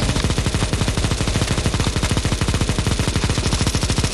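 Players in CS:GO Zombie Escape fire at a kraken boss, and rapid automatic gunfire rattles nonstop in dense, loud, overlapping bursts.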